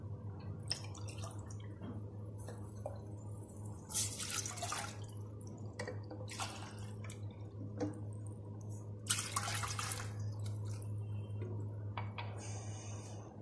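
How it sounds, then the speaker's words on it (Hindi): Water from two glasses poured into a cooking pot for lentil dal gives several short splashing bursts and drips over a steady low hum, fairly close and faint. "सबसे पहले पतीले में डालेंगे 2 गिलास पानी।"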